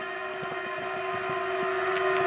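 Steady loud rumble of a train rushing past nearby, with sustained tonal whine and rhythmic clacks of wheels over rail joints.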